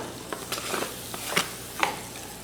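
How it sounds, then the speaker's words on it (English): Garlic and onions fry in olive oil in a pan, giving a soft steady sizzle close by, broken by a few brief scrapes and clicks of stirring. "now we're going to put garlic and onions down"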